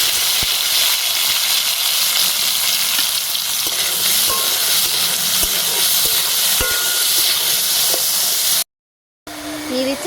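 Grapes sizzle loudly in hot oil with nigella seeds and fennel for a grape chutney, a steady dense frying hiss with occasional stirring clatter, near and continuous, briefly cutting out near the end.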